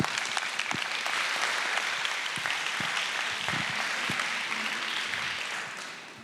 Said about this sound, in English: please give a warm applause to our guest, Ruben Pater.